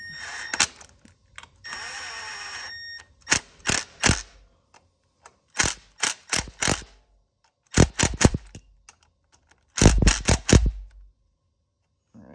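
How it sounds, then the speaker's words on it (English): A Milwaukee 12-volt impact driver with a swivel adapter and an 8mm shallow socket rattles in short, loud, close bursts, separated by pauses, while tightening bolts during a Yamaha YS200 stator replacement. "I'm using the Milwaukee 12-volt impact. I have a swivel adapter using Husky 8mm"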